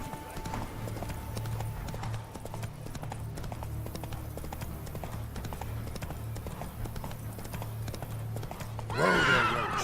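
Steady clip-clop of a horse's hooves in The Witcher 3 video game runs throughout, ending with a loud whinny near the close.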